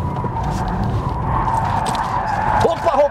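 A Kia EV6 GT drifts, its tyres skidding with a steady scrubbing squeal under the car's roar while people talk inside the cabin.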